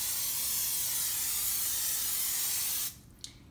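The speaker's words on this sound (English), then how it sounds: "First thing you want to do anytime you have pancakes on a skillet is spray it" Cooking spray hissing steadily onto a pancake skillet for nearly three seconds, a loud continuous aerosol spray that cuts off abruptly, followed by a faint click.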